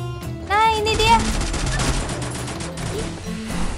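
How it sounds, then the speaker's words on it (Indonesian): Gunfire in the mobile battle royale game Free Fire crackles in quick bursts alongside other game effects, without anyone speaking. "Oh, ada tuh tembakan di sebelah sana."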